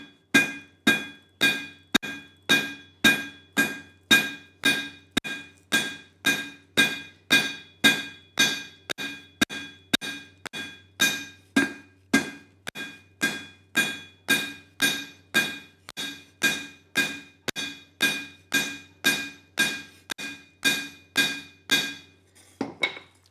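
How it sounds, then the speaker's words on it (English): Rhythmic hammer blows bevel hot leaf-spring steel on an anvil, dozens of evenly spaced strikes with a bright metallic clang, close and steady for the whole stretch. "I'm going to tilt my hammer and then just start beveling it."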